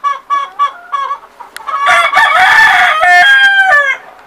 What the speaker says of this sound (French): Là-bas mon coq sur le bio de bois. Qui fait le fier, qui chante.